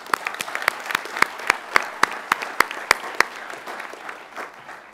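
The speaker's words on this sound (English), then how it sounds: "Can we give a round of applause just for that?" A school audience at Centenary Heights State High School gives a round of applause, with a few loud, emphatic claps standing out rhythmically over the softer crowd clapping before it fades.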